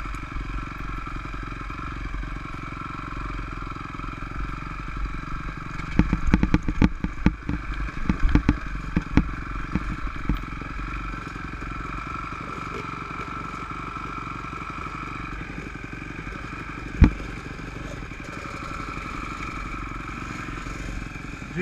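Dirt motorcycles riding a dry single-track trail: a steady mid-pitched engine drone with a burst of rattling clatter and scraping partway through, then a single sharp knock near the end.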